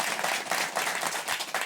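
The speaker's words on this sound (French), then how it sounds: "sous vos applaudissements" Brief burst of audience clapping, brisk and close, many hands applauding together in a lively, continuous patter.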